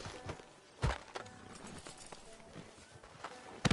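Horse hooves clip-clop in Red Dead Redemption 2 as a rider pulls up outside a sheriff's office, a few uneven hoof thuds with a louder strike near the start and another at the end over quiet game ambience.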